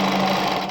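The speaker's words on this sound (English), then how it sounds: "when you're rolling onto the machine, it actually wounds the bobbin" An Adlerina 240A sewing machine winds its bobbin with a steady, close, high motor whir that fades slightly at the end of a very short burst.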